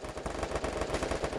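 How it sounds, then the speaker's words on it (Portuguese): Rapid automatic gunfire in the mobile battle royale game Free Fire, a dense continuous burst of shots at steady close range without pauses. "tem um tiro, tem um tiro"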